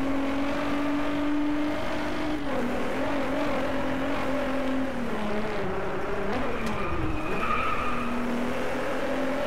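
Racing cars in the video game Driveclub skid and squeal across the whole stretch, engines droning loudly with a bump of impact partway through, no talk.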